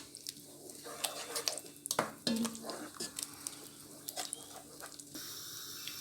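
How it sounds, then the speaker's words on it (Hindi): Tomatoes for a lentil and spinach curry being fried and stirred in a pan, with scattered scrapes, clinks of a utensil against the metal and a soft sizzle throughout, fairly quiet and without talk. "तो ये बस मैं अब इसको अच्छे से भूनूंगी"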